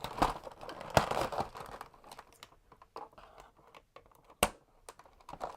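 Cardboard and plastic packaging torn and crinkled apart while freeing a Nerf Zombie Strike RevReaper dart blaster, a few sharp ripping bursts close by, with quieter rustling between them.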